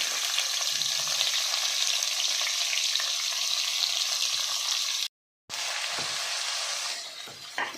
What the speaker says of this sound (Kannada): ಈಗ ಇದಕ್ಕೆ ಈರುಳ್ಳಿ ಕಟ್ ಮಾಡಿ ಅದನ್ನು ಸೇರಿಸ್ಕೊತೀವಿ